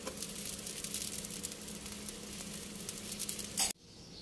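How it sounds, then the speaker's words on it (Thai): Pickling liquid for green chilies boiling hard in a pot, a dense, steady bubbling hiss close up, ending abruptly as the heat is cut. "นี่นะคะเดือดแบบนี้แล้วนะคะปิดไฟได้เลยค่ะ"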